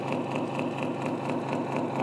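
Brushed motor in an RC hydraulic dumper truck whirring steadily nearby, a continuous even electric hum with a faint regular pulsing and no talk.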